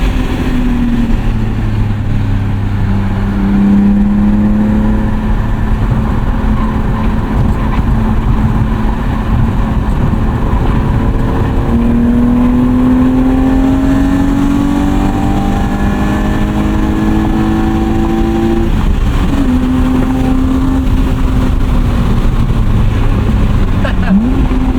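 A 1998 BMW M3 E36 with 250,000 miles, heard from inside the cabin, blips its engine through crisp downshifts, then pulls hard under acceleration, the revs rising and falling in a loud, continuous sweep.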